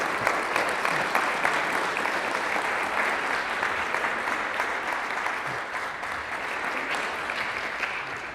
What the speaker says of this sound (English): I would like to applaud you for what you've done.